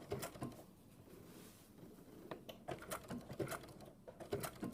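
A sewing machine stitches an appliqué, giving a rapid, steady mechanical patter of needle strokes close by with slight surges in pace, and no talking.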